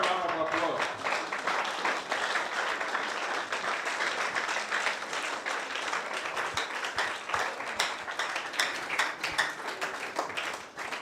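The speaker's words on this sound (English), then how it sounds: "Let's give a better round of applause." An audience applauds at a morning gathering with sustained dense clapping, steady and moderately loud throughout, with individual claps standing out here and there.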